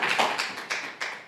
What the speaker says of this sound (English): We clap for Shelley.